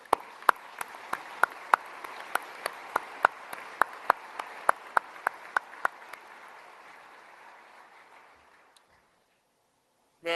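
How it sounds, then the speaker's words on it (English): Applause from the audience at a military change of command ceremony, with a few sharp, close individual claps standing out over the crowd, gradually fading away over about nine seconds, followed by silence. "Let's give them another round of applause."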